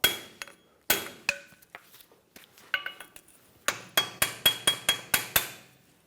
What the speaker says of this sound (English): Take a pry bar and a hammer,